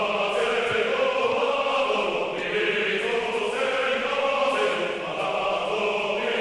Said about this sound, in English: The main choir sounds like this.